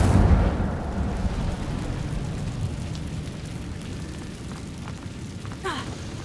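An Incendio fire spell cast in Hogwarts Legacy: a sudden fiery whoosh bursting at the start, then settling into a crackling, rain-like burning hiss that fades slowly, with a small flare near the end.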